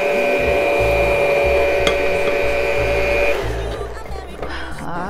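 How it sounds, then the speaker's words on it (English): A spatula scrapes down a mixing bowl of pound cake batter, a steady, close rubbing and scraping over a continuous mixer hum that eases off partway through. "we wanna scrape the bowl down a little bit here"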